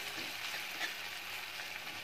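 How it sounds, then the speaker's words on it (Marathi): Thecha chili paste sizzles in hot oil as a tempering for Khandeshi bharit, a steady close frying hiss that holds evenly throughout with no voices. "अर्धा ठेचा आपण ह्याच्यामध्ये टाकणार आहोत फोडणीमध्ये"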